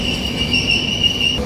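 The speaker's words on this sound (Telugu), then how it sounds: "DEMU local train, RCF train అండి" A white and orange RCF-built DEMU local train running from Kacheguda to Nadikude makes a steady, continuous hum with a faint high whine, loud and close.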